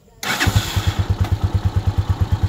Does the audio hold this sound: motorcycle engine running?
yes